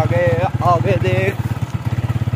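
A scooter engine putters in a low, regular pulse while riders head home, steady and close throughout, with a voice talking over it at the start.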